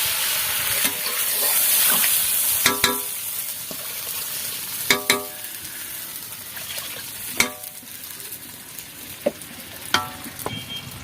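Water poured into a pan of sizzling spiced tangra fish curry, a loud hissing burst followed by a softer simmering sizzle and several sharp clinks of a spoon against the pan, with no one talking.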